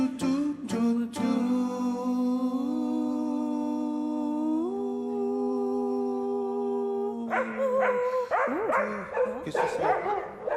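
Dog-like barks, yips and whimpers burst out near the end, following long held musical notes during a live concert at the Olympia in Paris.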